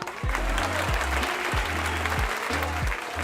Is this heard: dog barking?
no